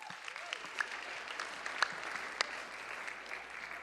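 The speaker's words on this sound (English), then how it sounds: "Alex, give Alex a hand too as well" Audience applause at the rescheduled White House Correspondents' Dinner, a moderate crowd clapping steadily with a few sharp louder claps standing out, heard at some distance.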